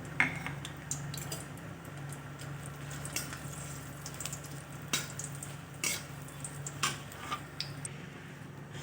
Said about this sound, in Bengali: শুকনো লঙ্কাগুলো একটু ভেজে নামিয়ে নেব।